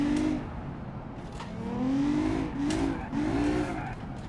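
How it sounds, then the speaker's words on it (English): Car engine in the driving game BeamNG.Drive, likely a modded car, revving in repeated rising pulls with brief lifts between shifts, loud and close, with some tire noise and no talking. "I like this engine noise."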